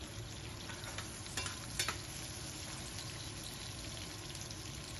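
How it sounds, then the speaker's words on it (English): Onions browning and caramelizing with seeds in hot ghee on gentle heat, a steady close sizzle and crackle with a few stirring scrapes, no talking. "We don't want to burn the onions, we just want to brown them and caramelize them."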